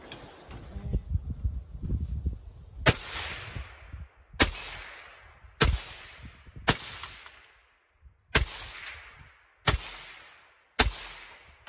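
Suppressed shots from a Faxon 11.5 inch rifle: six sharp, evenly loud reports about a second or so apart, each with a quick decaying tail, after a stretch of low rumbling handling noise.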